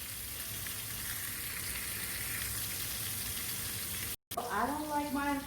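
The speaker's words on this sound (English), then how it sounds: "So I'm just going to turn my steak one more time while you hear them back there frying." Ribeye steak fries in a pan with a steady, moderate sizzle throughout, then after a brief dropout a voice speaks over the continuing frying.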